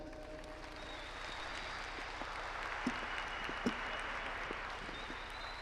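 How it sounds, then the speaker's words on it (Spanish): Steady applause from a crowd at the opening ceremony of a para-sports festival in Guatemala, a dense even patter of clapping with a few sharper claps standing out, no voices. "El aplauso es para José Rolando de León, para atleta guatemalteco."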